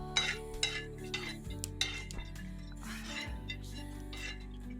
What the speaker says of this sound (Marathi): ते आता हलवून घेते